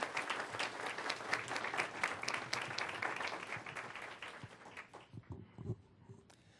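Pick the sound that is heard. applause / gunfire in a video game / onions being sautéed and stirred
applause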